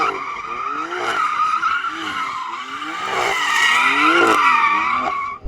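Tyres squeal continuously as a car on Michelin Pilot Sport Cup 2 rubber spins its wheels to warm them, with an engine revving up and down in repeated waves, loud and close, no speech.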